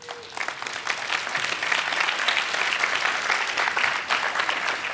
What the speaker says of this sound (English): Give a good clap to Pex.